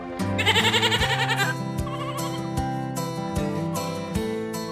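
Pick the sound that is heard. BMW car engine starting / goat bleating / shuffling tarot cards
goat bleating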